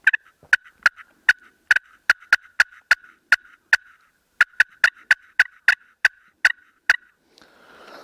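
A slate turkey call is played in a fast run of sharp, evenly spaced clucks forming a cut, about two dozen crisp yelps close up with a short pause midway.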